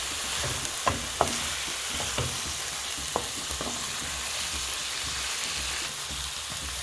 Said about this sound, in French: Après mon cube bouillon, je rajoute mon ail. Et je mélange le tout.